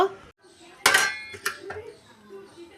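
A metal roti tawa griddle set down on a kitchen stove while making mango oil, giving one sharp clanking hit followed by a softer second knock, near and clear over quiet room noise.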